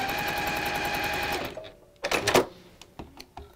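A sewing machine stitches a quilt seam with a steady, close, fast mechanical whir that runs for about a second and a half and then stops, followed by a few soft handling clicks and rustles.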